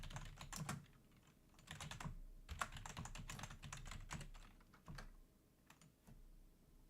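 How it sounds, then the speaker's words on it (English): Computer keyboard typing comes through faintly, irregular clusters of quick key clacks and pauses, close but quiet with no voices. "Y'all can still hear my keyboard."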